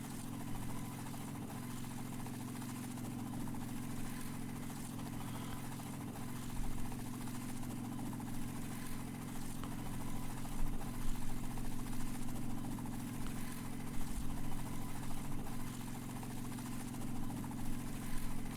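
A helicopter engine in the video game DayZ on the Namalsk map hums in a steady, droning whir that holds evenly throughout, with slight swells in loudness and no voices.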